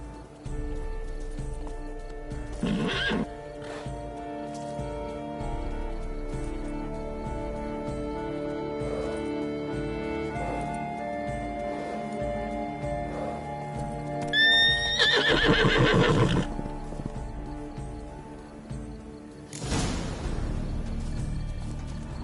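Roach the horse from The Witcher 3: Blood and Wine whinnies in short bursts over clip-clopping hooves and a steady game ambience, with no talk.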